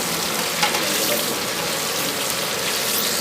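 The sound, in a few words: frying green chilies and potatoes in a large pot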